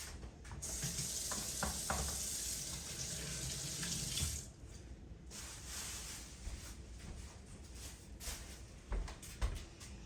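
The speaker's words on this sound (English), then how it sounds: "Wash my hands." Running water splashes into a kitchen sink while hands are washed, a close, continuous faucet gush with shifting splatter as the hands move under the stream, briefly quieter partway through before picking up again.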